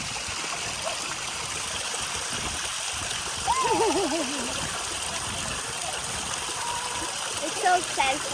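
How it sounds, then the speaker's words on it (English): Water from a small outdoor waterfall flows in a steady, continuous rush with light splashing, while voices speak briefly over it in the middle and near the end. "Look at the little waterfall there."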